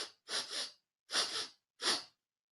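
A voice imitates a mole sniffing, with three short, breathy sniff bursts in a steady rhythm, close and clear, separated by brief silences.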